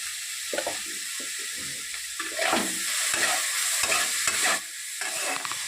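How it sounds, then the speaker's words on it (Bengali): Vegetables frying in a pan with salt and chili powder added, tomatoes already softened, as a spatula stirs them through a continuous sizzle with scraping strokes in uneven rhythm, close and fairly loud, no voices. "মশলাগুলো দিয়ে সবজিটাকে আবারও কিছু সময় ভালোভাবে ভেজে নেব"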